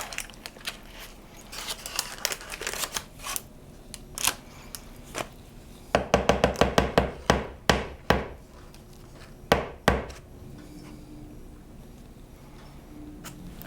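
A utensil scraping and tapping as a banana peanut butter baked oatmeal mixture is spread in a baking dish, irregular sharp knocks with a quick cluster in the middle, near and alone.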